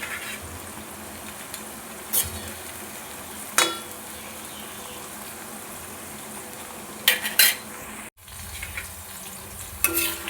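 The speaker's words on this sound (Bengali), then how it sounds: "বরবটিগুলো ভাজা হয়ে গেছে" Yardlong beans fry in a pan for fried rice, giving a low, steady sizzle broken by a handful of sharp metal scrapes and clinks of the utensil against the pan.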